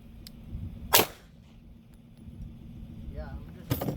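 Sharp gunshots from a Glock 48 pistol on a shooting range, two loud cracks spaced about three seconds apart over steady low background rumble.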